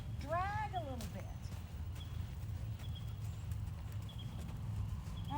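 A mare being led to a show ring clip-clops with sparse, light hoof strikes, preceded by a brief high vocal cry, over a steady low background rumble and distant chatter.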